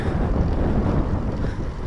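Strong wind buffets the microphone outdoors beside open fields, a constant low roaring rumble with gusty swells and no voices.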